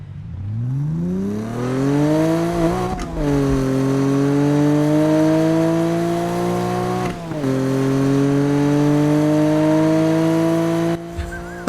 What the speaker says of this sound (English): one thing I love about these old school Supras, not the new ones, is that 2JZ engine